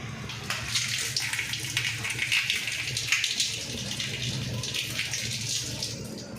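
Water is tipped off washed goat meat in a continuous splashing stream, close and moderately loud, with a faint low hum underneath.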